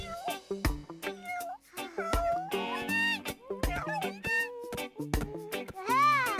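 Cartoon little black cat meowing in a children's animated episode, several expressive meows with bright sweeping pitch contours over background music, clear and close.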